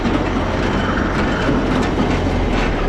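Ursus 1012 tractor pulling an Anna Z644 potato digger through a field, a loud continuous rattling clatter of machinery over a deep steady engine drone, close and unbroken, with no talk.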